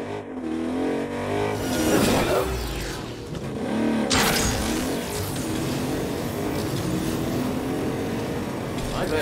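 A car in the video game Agents of Mayhem revs and accelerates after being summoned, its engine surging twice and then running steadily at moderate volume.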